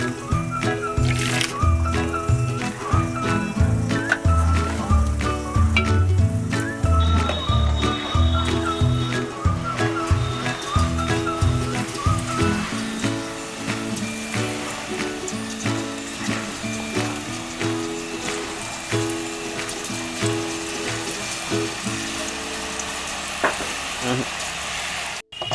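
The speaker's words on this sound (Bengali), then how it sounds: "আমার বোঁদেগুলো ভাজা হয়ে গেছে" Gram flour boondi droplets deep frying in hot oil, a continuous bubbling sizzle with stirring and light scraping, loud at first and gradually settling quieter toward the end.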